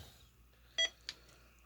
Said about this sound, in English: the beep that every time you push a button